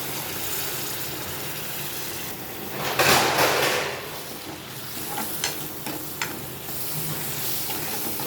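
Steady sizzling and frying in a hot pan, swelling briefly louder as water is poured in, with a few faint clinks; no talking.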